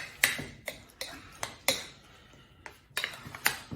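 A spoon scrapes and taps against a bowl while lumpy batter is stirred during a cooking demonstration, about eight distinct knocks in an uneven rhythm, close and fairly quiet.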